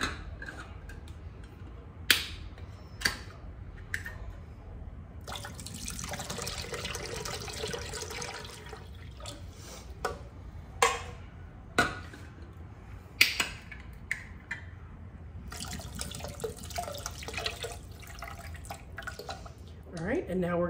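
Canned pineapple juice pours into a container in a couple of soft splashing stretches, with occasional sharp knocks and clinks, over quiet background.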